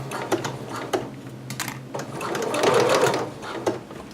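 A sewing machine stitches a seam in short bursts with ticking needle strokes and a longer whirring run near the end.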